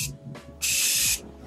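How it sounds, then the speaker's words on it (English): A makeup setting mist spray bottle fires one sustained, close, loud hissing burst of about half a second, with two shorter faint puffs before it. "I'm going to spray that down with my setting mist again"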